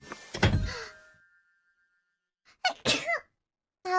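A single sharp sneeze bursts out close to the mic, followed after a pause by short voiced exclamations and a brief vocal sound at the end.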